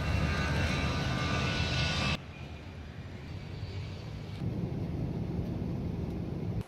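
A passenger airplane's engines roar loud and steady from inside the plane, a dense broadband rumble that drops in level after a couple of seconds and continues to an abrupt stop.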